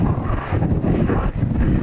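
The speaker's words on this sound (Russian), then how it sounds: "ветер поменялся и все пошло совсем по-другому" Strong gusty wind buffets the microphone in heavy, roaring bursts at the shore in Buenos Aires, with a low rumble that could be surf underneath.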